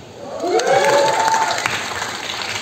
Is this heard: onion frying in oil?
no